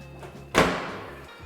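A single dull thunk as a dishwasher door in a newly finished house kitchen is swung open, fairly quiet, with a brief low rumble fading after it and no talking.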